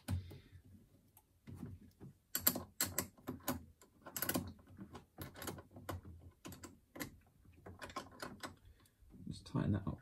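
A spanner tightening the negative terminal of a lightweight lithium-ion battery in a Porsche, with a series of close metallic ratcheting clicks in short bursts and pauses.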